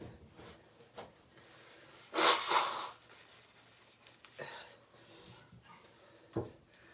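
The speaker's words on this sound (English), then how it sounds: "Blow my nose real quick." A person blows their nose in a short, breathy burst of two or three strong puffs, close and fairly loud, with quieter rustling and small handling sounds around it and a faint sniff afterward.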